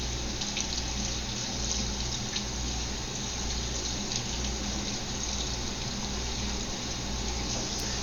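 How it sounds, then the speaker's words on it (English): Water runs steadily from a kitchen tap, rinsing two broccoli crowns in a continuous, even gush at moderate distance. "So I'm going to give the broccoli a rinse."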